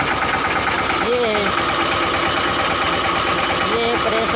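A Mahindra Yuvraj 215 small tractor engine runs steadily nearby, a continuous mid-pitched idling drone with voices talking over it at moments.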